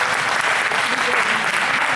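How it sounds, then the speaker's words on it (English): Audience at a Jain community session applauding for the children, a dense, steady wash of many hands clapping together, sustained and loud with no pauses. "Clap for the children, please. Clap like you mean it."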